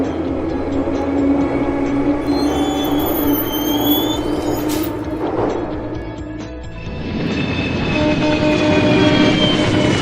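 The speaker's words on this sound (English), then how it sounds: "Subway." A subway train roars past close by, wheels clattering and brakes whining, fading briefly before the rumble swells again.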